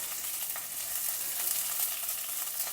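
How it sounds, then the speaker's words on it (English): Mustard seeds, jeera and green chillies sizzle steadily in a tablespoon of hot oil in a pan, a fine continuous crackle with small pops throughout, close and moderately quiet with no talking. "heat a tablespoon of oil in a pan. Add some mustard seeds, jeera, 3 to 4 green chillies"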